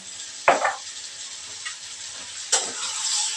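Vegetables with a little sugar frying in a home kitchen pan give a faint steady sizzle, with two brief louder scrapes or stirs breaking through.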